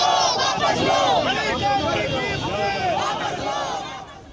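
Crowd of lawyers chanting slogans in unison outside the Allahabad High Court, loud and close, rhythmic rising shouts that fade slightly toward the end.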